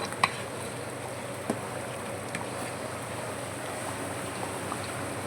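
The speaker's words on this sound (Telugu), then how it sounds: "చూడండి ఫ్రెండ్స్, ఖైమా ఎట్లా ఉడుకుతుందో" Keema (minced meat) simmering in a pot at a hotel kitchen gives a steady low bubbling and sizzling wash with a few faint clicks throughout, no voices.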